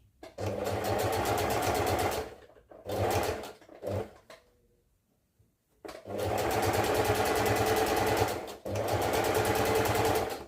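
Sewing machine stitching fabric in several short runs of close, even whirring, broken by brief pauses and a longer silence midway, with no voices.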